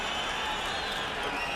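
A boxing arena crowd roars for Manny Pacquiao's left hand against Antonio Margarito, a dense, steady wash of cheering and applause that fills the whole short moment.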